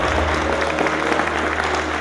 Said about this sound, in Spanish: Bien, fuerte el aplauso.